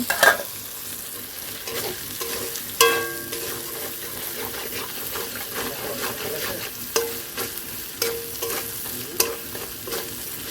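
Ginger-garlic spice paste is stir-fried in a pot, a soft continuous sizzle broken by repeated sharp scrapes and clanks of a spoon against the metal, close and fairly loud.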